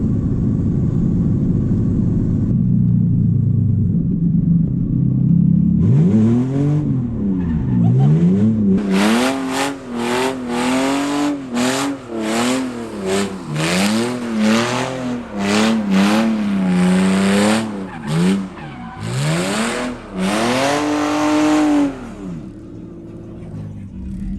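A BMW E36 328ti Compact rumbles at idle, then accelerates hard through several gear changes, its engine note rising and falling repeatedly, loud and close throughout.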